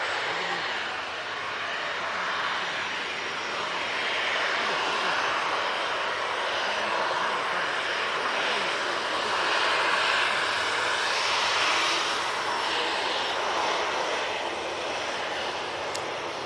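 A TUI airliner bound for Larnaca moves onto runway 23L at Manchester Airport, its engines giving a steady, moderately distant broadband roar that swells and eases slightly across the span.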